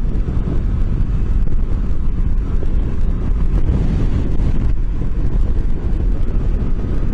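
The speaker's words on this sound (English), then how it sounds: "this is into a very stiff headwind" A stiff headwind roars across the helmet and microphone of a Honda CB500X motorcycle riding at about 60 mph, a loud dense unbroken rumble with no talk.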